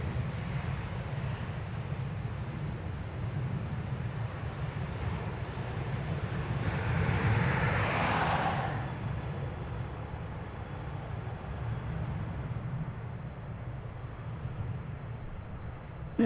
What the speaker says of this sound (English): It's going to have to wait, though, for this Omaha-bound flight to pass by in front of it.